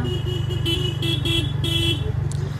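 Two motorcycles sound their horns together at close range, loud repeated toots in uneven bursts over a steady idling engine rumble.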